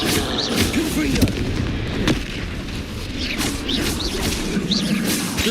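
In Hogwarts Legacy, the Confringo blast spell goes off amid loud booming explosions and crackling impacts, with a dense, continuous layer of game combat noise.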